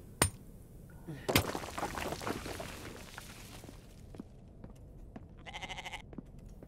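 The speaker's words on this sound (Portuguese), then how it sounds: "Tem uma cabra aqui?" A goat bleats in The Infected game, a short wavering call near the end, after scattered knocks and scuffling noises.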